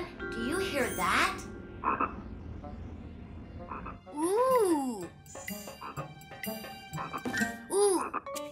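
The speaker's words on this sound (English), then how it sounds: "A stowaway space frog!" A cartoon space frog stowed away aboard a spaceship croaks in several loud, bouncy bursts, with bright chiming tones ringing around it and no talking.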